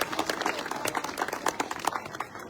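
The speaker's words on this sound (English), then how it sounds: "can we have a round of applause for these awesome families?" An audience claps at a charity walk event, steady dense applause with scattered cheers throughout.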